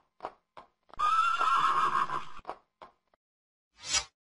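A horse gives a loud, drawn-out whinny, framed by a few short snorts and huffs before and after, heard close up.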